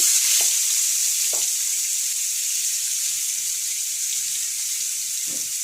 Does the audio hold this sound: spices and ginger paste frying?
yes